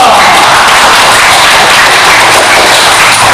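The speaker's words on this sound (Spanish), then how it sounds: "El aplauso fuerte para ellos." Loud, dense applause for dancers at a Kichwa dance class, sustained evenly from start to finish with no one speaking.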